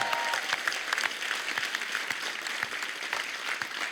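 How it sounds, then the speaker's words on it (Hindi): A studio audience at a comedy talk show claps enthusiastically in a full, steady burst, with individual claps audible within the dense sound. "जोरदार तालियां बनती हैं इससे।"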